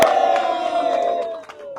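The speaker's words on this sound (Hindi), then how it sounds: "अरे ताली तो बजाओ।" An indoor audience at a Land Rover Defender 130 delivery gathering shouts and cheers in a loud, sustained crowd roar lasting under two seconds.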